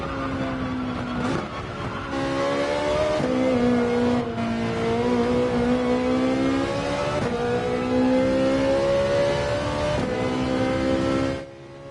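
Race car in Gran Turismo 7 on soft tires, engine revving and accelerating with rising pitch through several gear shifts, loud and continuous for about twelve seconds with no talk.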